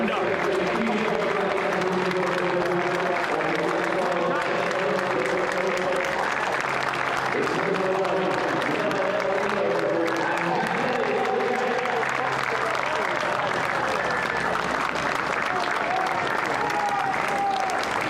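A large racecourse crowd at the 2021 Cheltenham Gold Cup applauds continuously and loudly for the winning horse, with cheers and scattered shouts mixed into the sustained clapping.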